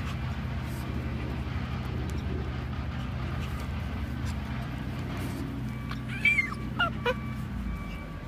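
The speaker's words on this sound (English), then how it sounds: "Oh my gosh, here's the new puppies." Soft, high whimpers and yips from puppies near the end, over a low steady background hum.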